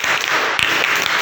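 An audience at a school quiz programme claps for a team's score, a short, loud burst of many hands with a couple of sharper individual claps standing out.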